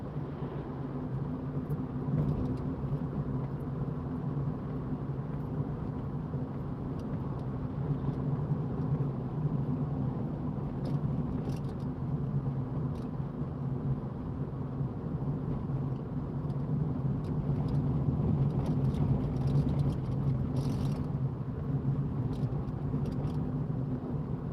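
Cars in road traffic near Beach Hill, heard as a steady low rumble of engines and tyres with passing vehicles, moderately close and continuous throughout, no talking.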